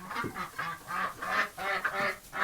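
A female duck quacks in a run of about six loud, close, harsh calls in quick succession, with no talking.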